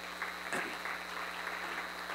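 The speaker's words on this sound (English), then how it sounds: "So give yourselves a great round of applause" Faint, thin applause at a business award event: scattered clapping over a steady hum, with one brief louder burst near the middle.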